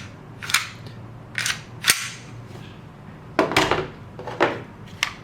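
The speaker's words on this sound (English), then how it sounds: "it's rougher action when the slide is actually moving back and forth" Slide of a TacToys XTP/ACP CO2 pistol racked back and forth by hand, giving several sharp metallic clacks and scraping rasps in irregular bursts, close and fairly loud with no talking.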